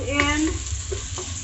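Squid adobo being stirred in a sizzling frying pan, with a short burst of utensil scraping over a steady sizzle, close and without voices.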